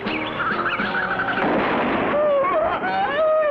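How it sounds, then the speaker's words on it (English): A cartoon gun blast bursts out as a loud booming crack that rolls off, followed by warbling tones. "I heard a gun blast"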